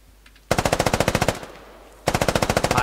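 Machine gun fire in the Squad military video game, two sustained automatic bursts in rapid, even rhythm, loud and close, with a short pause between them.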